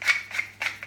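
Black pepper ground from a mill over a creamy prawn courgetti dish: three or four short, crisp grinding crunches in quick succession, close and fairly quiet.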